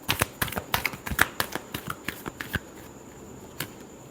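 Tarot cards are shuffled close by in a quick run of crisp flicks and slaps for about two and a half seconds, then a single faint tap amid quiet.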